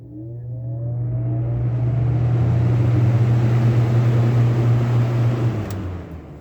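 A Duracrest two-speed box fan with a Westinghouse motor starting up, a low hum rising over a few seconds into a steady loud whoosh of moving air, then tapering slightly at the end, with no talk.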